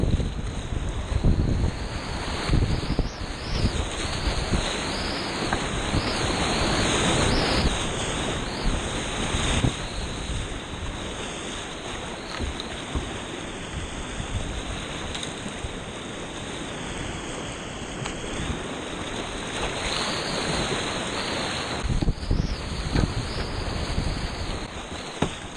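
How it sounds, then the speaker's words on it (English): Rushing water of Embudo Creek in New Mexico roars continuously, heavily buffeted by loud wind noise on the microphone, with no talking over it. "That's the Embudo Creek."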